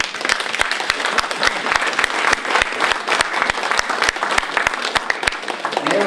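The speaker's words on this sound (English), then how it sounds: "just applauding there at the moment" An audience applauds at a 2014 Christmas party, steady close clapping with distinct sharp individual claps standing out, sustained throughout.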